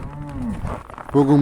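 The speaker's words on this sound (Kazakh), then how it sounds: "Мына жақ сиырлар байқап тұрған шығарсыздар, малдардың өзі міне желден ықтап тұр" Cows on a snowy village farm, sheltering from the wind beside the barn, give a low, drawn-out moo near the end over a steady gusting blizzard.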